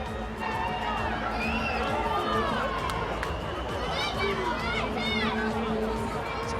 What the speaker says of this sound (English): Good crowd building up here too at Eden Park as well.